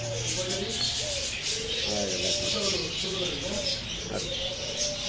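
Soft, repeated cooing and chirping of several budgerigars in a bird shop, including newly hatched chicks, overlapping in an uneven rhythm against a quiet hiss.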